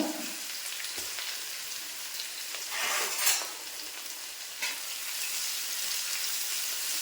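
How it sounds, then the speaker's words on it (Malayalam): Garlic frying in hot oil with mustard seeds and curry leaves for a potato fry gives a steady, close sizzle that swells and crackles briefly midway, with no voices. "എന്നിട്ട് ഞാൻ ഇതിലേക്ക് നമ്മുടെ വെളുത്തുള്ളി അതൊന്ന് നന്നായിട്ട് മൂക്കണമല്ലോ, വെളുത്തുള്ളി ഇട്ട് കൊടുക്കുവാണ്."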